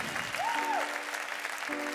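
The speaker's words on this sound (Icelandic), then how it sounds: "gefið honum gott klapp, gefið Gizvon Æs" Audience applause at a live Icelandic concert in 2023, a dense steady wash of clapping filling the whole moment, with a tonal sound rising and falling over it and a low held note entering near the end.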